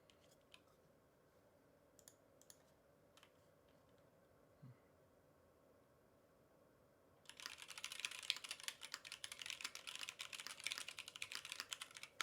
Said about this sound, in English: Let me turn off the music so you guys can hear the sweet sounds of my keyboard.